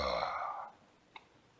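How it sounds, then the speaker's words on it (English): A short, loud burp opens the moment, trailing off within a second into quiet, followed by a faint click. "And they both burped."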